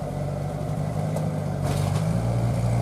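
Engine of a 2002 UAZ running steadily after about ten minutes of warm-up, a continuous low rumble close by with a slight swell near the end and no talk.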